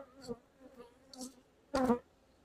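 Honeybees in an opened hive whose honey stores are being checked, heard as a quiet, low insect hum with brief swells of buzzing, one louder close burst near the end.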